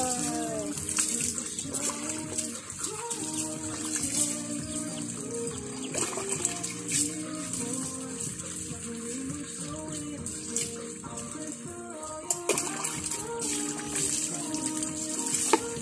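Running water splashes steadily while a big dog named Boss is bathed, a continuous gushing from a tap with occasional clatter and bird chirps behind, filling the whole stretch.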